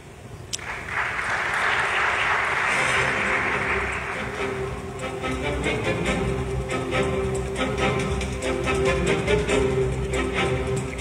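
Audience applause at a panel session of a Single Window conference in Morocco, a steady broad wash of clapping that swells quickly and holds for several seconds, with faint voices and room sounds mixed in toward the end.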